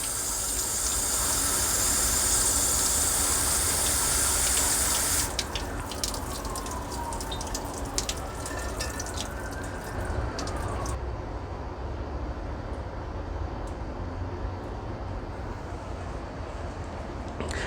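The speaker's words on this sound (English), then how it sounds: "We're just going to run it through until all the fine particles come out and the water starts to run reasonably" Water running steadily through potting soil in a pot until the drainage runs clear, a continuous gush that starts loud and broad, then settles into a softer, even trickle and pour.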